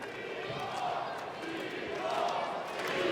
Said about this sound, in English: Chants of MLP echoing throughout this hallowed confines of the Mattamy Athletic Center, a sold-out crowd.